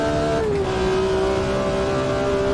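A loud racing car engine from the Automobilista 2 racing simulator holds a sustained, buzzing howl. Its pitch drops briefly early on, then settles into a steady drone close up, with no voices.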